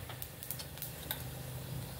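Mustard seeds crackle and pop in hot oil in a kadhai with cumin and asafoetida, for a potato bhaji masala dosa filling; sparse light ticks and snaps ride over a steady low sizzle, close and fairly quiet.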